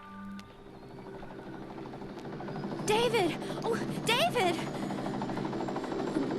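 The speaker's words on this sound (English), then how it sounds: "Helicopter coming this way." A helicopter drones steadily in the background, growing slightly louder as it approaches, while a voice calls out over it.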